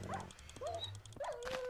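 A hellhound mob in the modded Minecraft pack FTB Infinity Evolved gives brief, faint dog-like whines and yips, several short rising calls in a row over a steady low hum.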